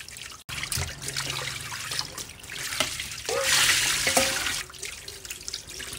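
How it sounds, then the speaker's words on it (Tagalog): Tap water running and splashing in a sink as pork ribs are rinsed by hand, a close, continuous trickle and gush with soft handling clatter and shifting flow, no talking. "Hugasan lang natin. Yan, hugasan natin ng mabuti."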